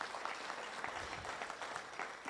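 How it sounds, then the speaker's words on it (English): Audience at the 2023 AOA National Fleece Show Awards applauding a best hand Suri fleece win, a steady wash of many hands clapping, fairly quiet and continuous throughout. "Let's give them a big round of applause."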